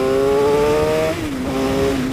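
A Suzuki GSX-R 750 motorcycle pulls hard in second gear, its engine note loud and close with a steady rising whine that dips briefly at a gear or throttle change, then climbs again.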